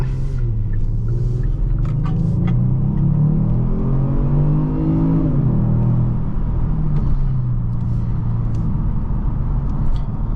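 A 2021 Kia Stinger GT1 AWD engine revs up with a deep, rising rumble that swells then settles into a steady growl, loud and close with no voices.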